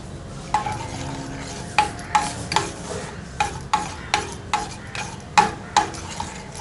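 A spoon stirs homemade face gel ingredients together in a bowl, giving about a dozen close, ringing clinks against the side at a steady, slightly uneven pace over a soft wet scraping, with no voices.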